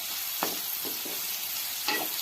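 Onions fry in a pan with a constant close sizzle and a few soft stirring scrapes.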